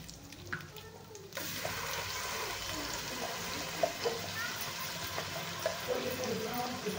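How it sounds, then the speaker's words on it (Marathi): Kashmiri red chili powder and ground spices frying in oil for dhaba-style malai paneer, a dense steady sizzle starting abruptly and holding close, with small stirring knocks, a voice speaking faintly beneath. "अशी मिरची थोडीशी तेलामध्ये तळली"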